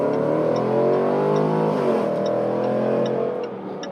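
Jaguar F-Pace SVR, a 550-horsepower SUV, accelerates with a loud, rising engine roar heard from nearby, easing off near the end with no voices.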